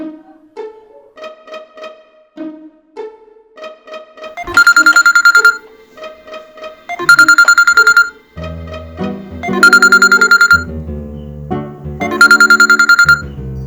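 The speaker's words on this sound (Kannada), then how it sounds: "ನಮ್ಮ ಶ್ಯಾಮನ ಮಗ ಫೋನ್ ಮಾಡಿದ" A melodic phone ringtone plays a repeating tune, alternating softer note phrases with loud bright ringing bursts, close and clear.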